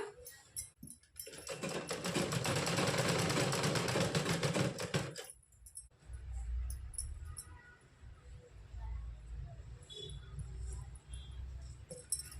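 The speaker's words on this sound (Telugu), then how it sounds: "ఇప్పుడు కుట్టు అనేది కుడదాం ఫ్రెండ్స్" A sewing machine stitches a blouse in a steady, close, loud run of about four seconds. It then stops, and low rumbling handling noise follows.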